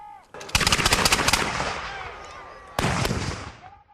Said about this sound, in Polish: głośne wystrzały ze sztucerów oraz armat i moździerzy huczały w głowie jeszcze długo po zakończeniu potyczki